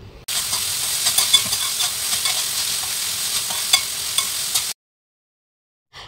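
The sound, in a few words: onion, capsicum, carrot and tomato frying in oil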